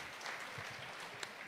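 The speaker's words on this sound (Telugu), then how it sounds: "వారందరికీ గట్టిగా చప్పట్లు కొట్టి" A brief burst of audience clapping at an official flood review meeting chaired by a chief minister, sounding faint and distant for about a second and a half.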